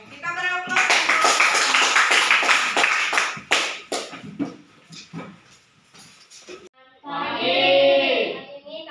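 A classroom group's applause breaks out as a few seconds of dense, steady clapping, then thins to scattered claps before a voice begins speaking over the room.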